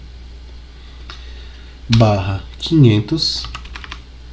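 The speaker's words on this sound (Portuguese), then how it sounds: "e aí eu vou digitar a minha escala" Close computer keyboard typing, a few clicks before and during speech, with a person talking over the keys.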